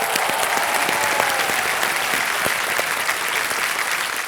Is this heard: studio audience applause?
yes